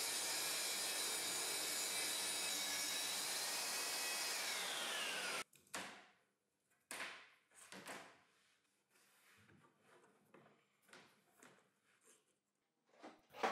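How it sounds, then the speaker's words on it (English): A power saw rips through a board along a rip cut guide on a workbench, a loud steady roar for about five seconds that winds down and stops, followed by scattered knocks and handling clatter. "Now with both hands I move the rip cut guide and the saw to cut the board."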